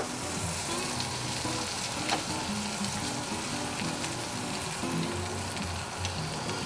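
Shrimp sizzle steadily in a hot frying pan, a close, continuous crackling hiss with occasional scraping stirs.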